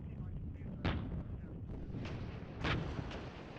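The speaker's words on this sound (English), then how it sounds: "I need to counter battery this artillery. Where is it firing from?" Distant, muffled artillery booms in the video game Regiments, several heavy thumps spread over a few seconds amid a dense rumbling low-end battle wash.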